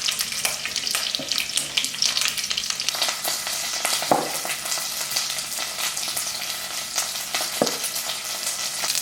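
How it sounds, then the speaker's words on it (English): Onion and garlic frying in hot oil in a pan, a dense continuous close sizzle with a few soft stirring knocks, steady and loud throughout, no voices. "so I'm gonna add onion and garlic. And we're just gonna let it sit until it's brown and it takes color."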